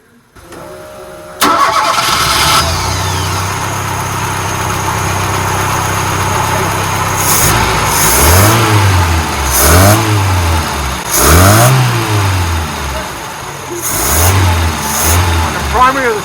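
A Lancia car engine cranks and catches, then idles roughly before several loud revs rise and fall in quick bursts, close up, with people talking over it while they work on a fuel delivery fault.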